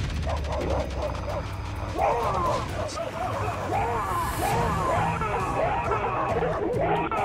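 Three large pit bulls loose in a residential neighborhood bark repeatedly and excitedly, sharp overlapping barks and yips close by, with people talking and shouting over them.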